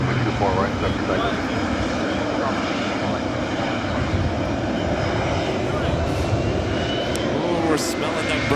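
Steady, loud roar of a Singapore Airlines heavy jet arriving on runway 24 right at LAX, a continuous broadband engine rumble filling the whole stretch without letting up.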